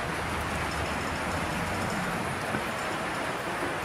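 Model power cars of several model trains rolling along a layout, their trucks and wheels giving a steady, fairly quiet rumbling clatter with no voices.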